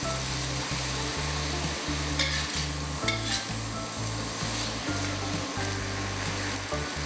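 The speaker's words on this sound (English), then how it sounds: "Mix this well to make sure that all your udon noodles are covered with the sauce." Udon noodles with pork and sauce stir-fried in a hot pan: a steady, loud sizzle runs throughout, with rhythmic scraping and tossing strokes of the utensil, close up and with no voices.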